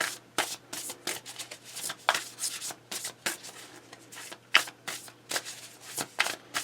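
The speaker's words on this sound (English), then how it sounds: "When I first got this Urban Crow Oracle, it was easy for me to shuffle, but right now it is not easy." Urban Crow Oracle cards are shuffled by hand in repeated soft riffling bursts, a steady rhythm of papery rubs close up with no talking.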